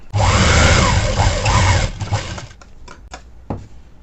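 A sewing machine runs in a fast, steady whir for about two seconds while stitching a blouse sleeve, then stops, leaving a few faint clicks and handling taps.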